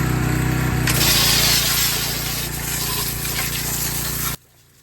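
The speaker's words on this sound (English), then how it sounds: "I'm gonna go grab the pressure washer and we're gonna spray this thing down" A loud, steady high-pressure water spray from a pressure washer hisses continuously up close on a 1956 DeSoto car for several seconds, then abruptly cuts off.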